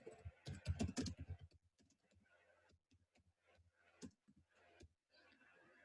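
Someone types a report on a computer keyboard, with quick clusters of key taps followed by sparser, fainter presses, close and quiet in a still room.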